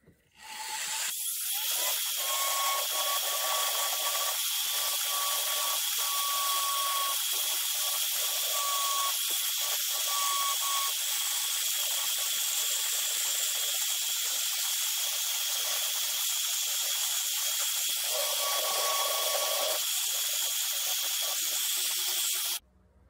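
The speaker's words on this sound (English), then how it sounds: "let's dig his nose out a little bit with the cylinder bit" A rotary carving tool fitted with a cylinder bit grinds into a carved wood spirit face, giving a loud, continuous high-pitched whine with a faint tonal hum that runs unbroken for over twenty seconds before stopping abruptly.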